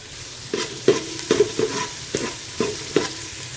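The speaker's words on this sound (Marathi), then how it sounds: "इथे कांदा आपण खूप जास्त परतून नाही घेणार आहोत" Onion sautéing in a pan as the base for a Maharashtrian mutton curry, a steady soft sizzle broken by regular scraping stirs of a spatula, each stroke a short clear swish, close and alone with no voices.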